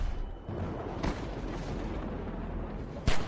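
Gunfire aimed at a zombie in The Walking Dead: Season 2 game, two sharp broadband shots about two seconds apart over a steady rumbling game background.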